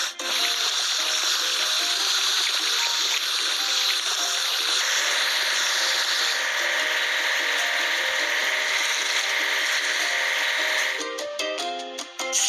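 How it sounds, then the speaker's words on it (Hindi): A children's building video game plays a continuous scrubbing and washing effect, a steady abrasive hiss that runs for about eleven seconds before breaking into short choppy bursts. "अब हमें इसे धोकर साफ करने की जरूरत है।"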